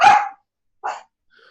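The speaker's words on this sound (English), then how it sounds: "Whose dog's barking?" A dog barks twice, close and fairly loud, a sharp bark followed after a short pause by a second shorter one, with a faint trailing sound and no talk over it.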